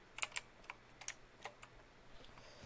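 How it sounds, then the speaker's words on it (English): A loud computer keyboard gives quick, irregular typing clicks in short bursts, close but recorded at low level, with no talking. "This keyboard is loud"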